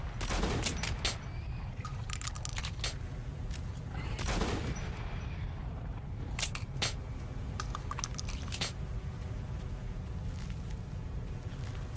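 A quadruple-barrel shotgun fires in the video game Metro Last Light, sharp booming blasts in quick clusters separated by short gaps, heard against a low rumbling game background with no voices.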